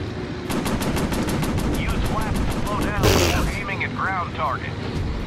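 Rapid automatic gunfire bursts loud and continuous in the Warplanes: Battles over Pacific VR game, with engine roar, a sudden explosion-like blast midway and a voice talking over the shooting.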